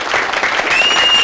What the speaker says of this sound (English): Let's give them a great warm applause here.